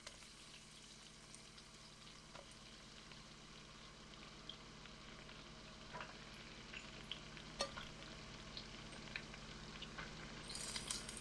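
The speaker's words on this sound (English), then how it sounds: "I'm just gonna go ahead and throw in my red onions" Red onions frying in oil in a wok over medium heat, a soft continuous sizzle with occasional faint ticks and stirring sounds, quiet and steady throughout.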